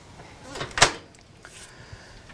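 A brief sliding rumble peaking in a sharp clack, a plywood drawer in a Sprinter motorhome rolling open on steel roller bearing glides, then quiet with faint small knocks.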